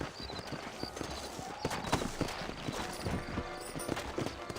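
Horse hooves clip-clop in a steady walking rhythm in Red Dead Redemption, with faint ambient background and occasional soft snorts, moderately close.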